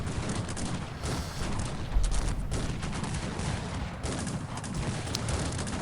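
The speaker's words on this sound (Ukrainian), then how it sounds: "тут гармати насипають" Dense, continuous rumble of heavy cannon fire and booming blasts from the battle game Cossacks 3, rapid overlapping shots with no pauses, loud throughout.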